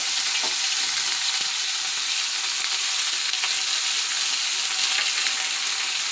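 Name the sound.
frying vegetables with dried fish and onion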